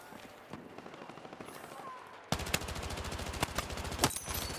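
Automatic weapon fire in the Helldivers video game: a quiet stretch of distant shots, then sustained rapid bursts of loud close gunfire with a few heavier blasts, and players talking faintly underneath.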